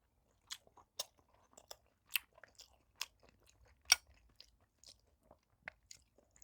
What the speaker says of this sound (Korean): 청국장, 밥, 두부, 고기. 잘 먹겠습니다. 두부.